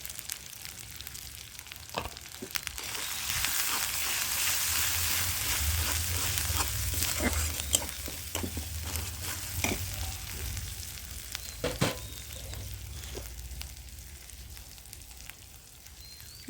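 Elephant foot yam fries in hot oil with chili and turmeric powder, giving a steady close sizzle with scattered crackles and pops and occasional stirring clatter throughout.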